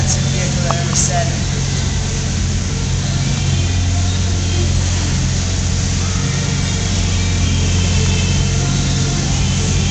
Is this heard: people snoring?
no